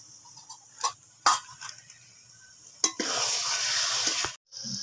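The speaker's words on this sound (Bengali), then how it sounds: "এবার কপিটাকে মোটামুটি দু তিন মিনিট মশলার সঙ্গে কষিয়ে নিয়েছি" Cabbage stir-fried with spices in a pan gives a few sharp scraping clacks of a spatula, then a loud, steady sizzle that briefly cuts out and resumes, heard close with no talking.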